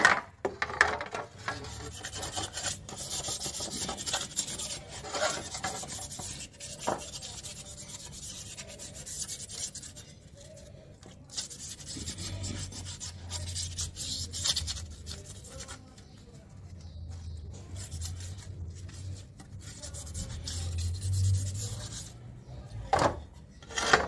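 Sandpaper rubs over the body of an RKS Blazer XR 50cc scooter during wet sanding, long gritty back-and-forth strokes that are quiet and close, with brief pauses between passes.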